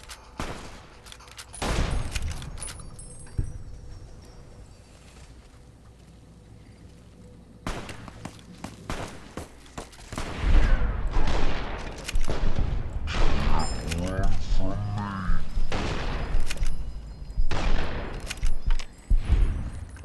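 Rapid bursts of gunfire from a player's weapon in Fallout New Vegas, loud and close, with sharp cracks scattered across a stretch of action and quieter gaps between volleys.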